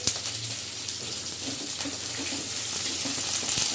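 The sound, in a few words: onions frying in hot oil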